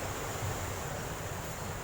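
Ocean surf breaking against the rocks at Santolo Beach makes a steady, loud broadband wash with a low rumble underneath, continuous throughout and with no voices.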